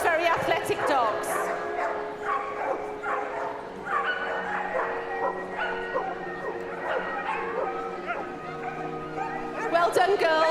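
Hungarian vizslas at a canine cross country display at Crufts yip, whimper and bark in quick, excited bursts, close and fairly loud, over the steady murmur of an arena crowd.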